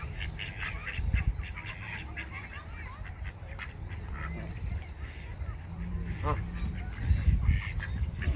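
Ducks quacking, with geese and ducklings around them at a lake, in scattered calls at middle distance over outdoor background noise, with faint talking now and then.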